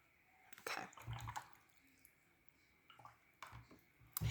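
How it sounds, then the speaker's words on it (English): A watercolor paintbrush rinsed in a water cup gives soft splashes, swishes and light taps against the container in a few irregular bursts, close and quiet, with no talk. "I'm just rinsing off my brush here"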